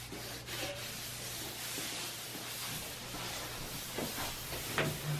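Tung oil is rubbed by hand into a wood floor, giving a continuous soft scrubbing hiss close by with a few brief swipes, no voices.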